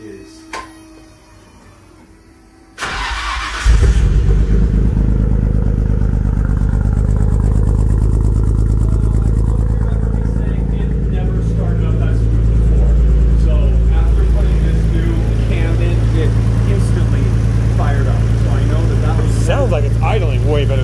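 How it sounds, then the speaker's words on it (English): A Nissan Skyline R32 GTR engine fires up and settles into a steady, loud, close idle that holds even for the rest of the stretch, with someone speaking briefly over it. "it idles good on initial startup"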